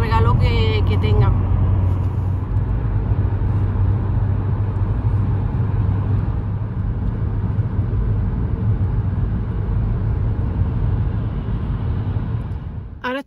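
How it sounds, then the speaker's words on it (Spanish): A car at a petrol station during refuelling: a steady low engine and traffic rumble fills the whole stretch, with people talking over it. "Estamos en la gasolinera que va a echarle gasolina al coche."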